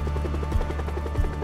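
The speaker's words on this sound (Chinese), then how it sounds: "直升机来接我们回到现实啦" Helicopter rotor thudding steadily at a moderate distance, a continuous low beating drone with rhythmic blade pulses throughout, no voices.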